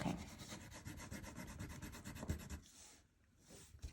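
A dull, unsharpened pencil rubs across paper in steady, quick scratchy strokes, close and soft, then stops near the end.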